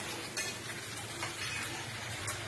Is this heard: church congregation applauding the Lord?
no